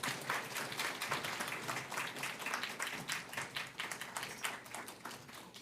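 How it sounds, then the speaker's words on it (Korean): A church congregation claps warmly to welcome a guest missionary at an Easter Sunday service, a dense, steady round of applause from many hands filling the room, moderately loud and without voices. "선교사님 환영한 의미로 격려의 박수 부탁드리겠습니다"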